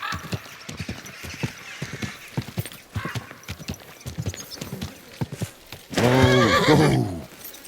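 A horse in the video game Kingdom Come Deliverance 2 walks with a steady clip-clop of hooves, then lets out a loud, close whinnying neigh near the end.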